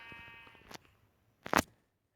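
A sheep bleats twice in Minecraft Pocket Edition, a short call followed by a louder, brighter one after a brief pause, both fairly close with no talk.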